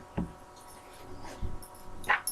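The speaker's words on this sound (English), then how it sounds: "No. A real dog." A dog whimpering indoors, a few short, soft whines and yips spaced across a quiet room, faint and close with no talking.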